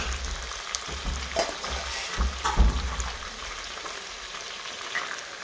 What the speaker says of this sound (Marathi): तेल जर चांगलं गरम झालं जास्त वेळ नाही लागत